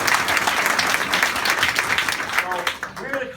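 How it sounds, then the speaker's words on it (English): An audience applauds at a Bernie Sanders 2016 campaign headquarters gathering in Greenville, South Carolina: dense, steady clapping from a room full of people that continues throughout, with a voice emerging near the end. "so a little round of applause for her."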